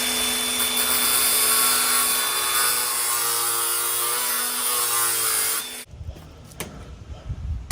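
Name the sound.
angle grinder cutting through Crimsafe screen door channel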